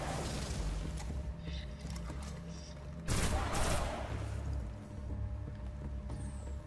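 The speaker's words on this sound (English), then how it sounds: "So the fusion gun is good to destroy his shields" Fusion gun fire in the video game Destiny, aimed at an enemy's shields: a dense, continuous fusillade of crackling shots with a loud, bright surge in the middle, booming and rattling throughout.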